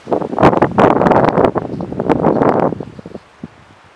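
A strong gust of wind buffets an outdoor microphone at a fishing spot in loud, irregular roaring bursts that swell and fade, then drop away to near quiet at the close.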